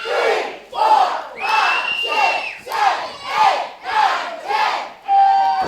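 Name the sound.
wrestling crowd counting along to ten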